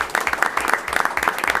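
An audience at a school board meeting breaks into a short burst of steady applause, many hands clapping at once with no one speaking over it.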